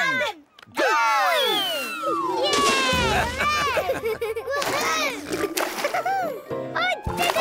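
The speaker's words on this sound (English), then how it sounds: "Great splash landing, Pilot Dan." A cartoon character makes a splash landing in a pool, with a bright watery splatter and slosh amid lively music, cheerful sound effects and children's voices talking and cheering around it.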